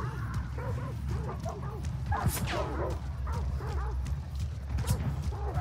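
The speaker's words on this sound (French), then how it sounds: "Ah, pas les chiens, s'il vous plaît." Dogs in a video game forest bark and yip repeatedly at close range, the barks coming in quick rhythmic bursts over a low rumbling backdrop, with faint clopping mixed in.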